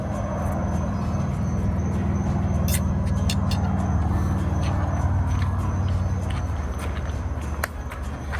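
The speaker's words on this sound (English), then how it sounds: "especially when you can hear Key West traffic" Road traffic along Key West roads goes past a campsite as a steady, broad wash of tire and engine noise at middle distance. Faint clicks and small nearby sounds sit on top, and no one speaks.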